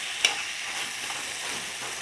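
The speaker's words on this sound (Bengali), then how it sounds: "এটাকে আমি ভালো করে নাড়িয়ে নেব।" Raw mango chutney is stirred in a pan, giving a soft hissing sizzle with a single sharp scrape of a spoon near the start, close and fairly quiet, with no voices.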